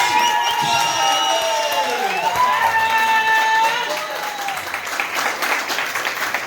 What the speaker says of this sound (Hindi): तो आजादी के दिन के लिए जोरदार ताली, जोरदार सीटी